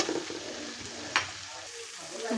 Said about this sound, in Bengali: আমি এখন ফুলকপিগুলো দিয়ে দিব